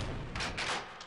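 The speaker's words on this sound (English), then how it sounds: "Ah, that's a grenade." A grenade blast in the Half-Life: Opposing Force video game, a short dense booming burst with rumbling low end that fills about a second.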